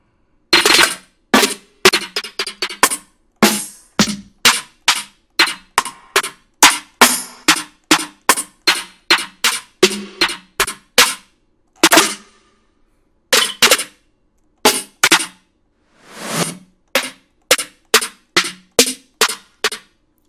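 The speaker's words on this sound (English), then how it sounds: "What you hear is a constant or consistency loud snare." Loud snare drum samples from a hip-hop drum kit, dozens of sharp, cracking hits played one after another in a quick, uneven sequence, each short and punchy with no talk.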